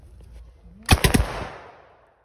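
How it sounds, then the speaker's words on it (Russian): A quick burst of three or four sharp, loud blank-cartridge shots from a Steyr-Solothurn S1-100 submachine gun in rapid succession, each with a ringing echo that fades out afterward. "Попробую произвести выстрел холостыми патронами."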